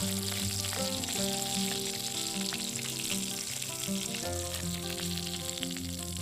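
Spices including chilli powder, turmeric and onion masala sizzle in hot oil for a fish recipe, a continuous close crackling hiss with melodic music playing underneath.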